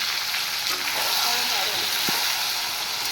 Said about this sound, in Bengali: এবার এই পেঁয়াজগুলো একটু লাল করে ফ্রাই করব।